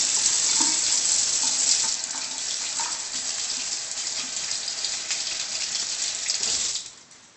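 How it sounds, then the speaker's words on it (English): Tap water running into a lab sink as hands are washed, a steady close splashing hiss with small rubbing and knocking sounds that stops abruptly near the end. "Always remember to wash hands after the lab."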